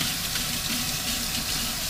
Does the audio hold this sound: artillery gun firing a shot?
no